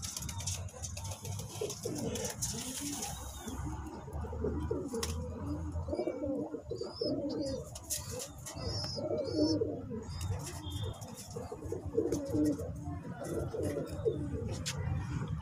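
Steady low pigeon coos repeat over a busy background of chirps and rustling, with occasional higher bird calls cutting through nearby.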